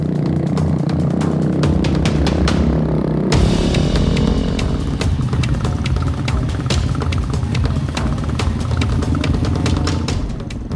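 A motorcycle engine revs hard and continuously, its strained, buzzing roar rising as it labors up a steep dirt trail on Mount Suket in Bondowoso, East Java, close and loud throughout.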